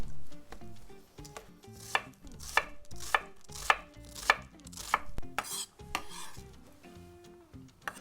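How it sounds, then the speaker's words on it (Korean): An onion is chopped finely with a knife on a cutting board, a run of crisp, close, rhythmic knocks with scraping between, no talk. "양파는 잘게 잘라주겠습니다."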